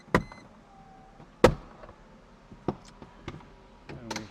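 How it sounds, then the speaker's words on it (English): Hard top of a 1997 Mercedes-Benz 500SL R129 unlatching, a series of sharp mechanical clicks and clunks spaced over a few seconds, close by with quiet gaps between them. "and we hear it unlatch"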